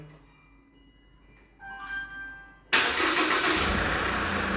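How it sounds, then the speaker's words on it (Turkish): A 2012 SsangYong Rexton started by remote command: a quiet stretch of faint whirring and electronic tones, then the engine abruptly catches and settles into a loud, steady idle rumble for the remaining seconds. "bir süre bekledikten sonra marş emrini yerine getirdi"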